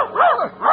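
A dog gives a couple of quick, close, loud barks with a yelping, whiny edge, alone without any talk.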